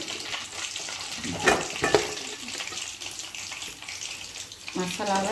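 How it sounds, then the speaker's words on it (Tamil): Two pieces of chicken 65 frying in hot oil in a home kitchen, giving a steady soft sizzle and bubbling throughout, with a few brighter crackles midway and near the end. "இப்போ ஆயில் நல்லா கரைஞ்சிடுச்சு நம்ம ரெண்டு பீஸ் போட்டிருக்குறோம் வேகட்டும்"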